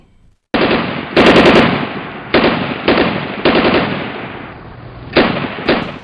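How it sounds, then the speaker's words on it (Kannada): A firearm discharges accidentally inside a political party office in Bellary, producing a burst of loud, sharp shots in rapid irregular succession, with several distinct blasts over a few seconds and no speech. "ಕೇಳಿಬಂದ ಢಮ್ ಢಮಾರ್ ಸದ್ದು ಅವರೆಲ್ಲರ ಜಂಘಾಬಲವನ್ನೇ ನಡುಗಿಸಿಬಿಟ್ಟಿತು"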